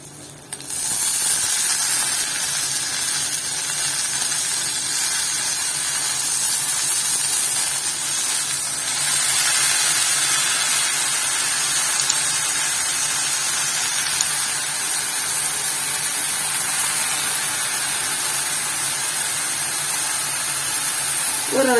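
Ponnanganni greens frying in a pan with softened onions, giving a steady, close sizzling hiss that runs unbroken throughout.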